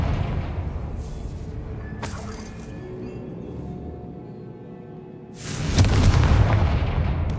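A Confringo fire spell exploding in Hogwarts Legacy: a sharp crack, a lingering rumble, then a heavier booming blast that rolls on loudly to the end.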